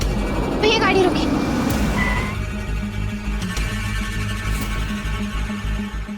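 A car skids and brakes to a halt on a quiet, dark road, tyres squealing briefly over the engine before it settles to an idle, with people talking over the scene.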